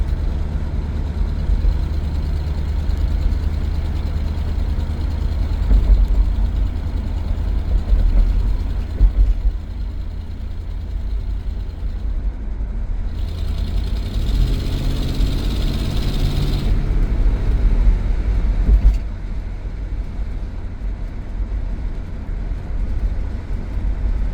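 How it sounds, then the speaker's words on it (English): A 1986 Mercury Grand Marquis Colony Park engine idles with a low, steady rumble and a faint ticking, puffing rasp from an exhaust leak, the tone shifting briefly midway; no talking. "As you can hear, it still has a bit of an exhaust leak"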